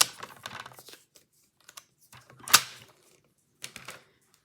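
A few quick, dry paper snips and rustles as a small paper scrap is cut for a craft album, close and quiet with gaps of silence between the cuts.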